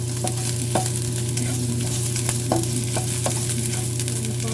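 Chicken curry with ginger cooks in a pan under a steady close sizzle, with a low constant hum and sharp scraping clicks as a utensil stirs it every half second or so. No voices.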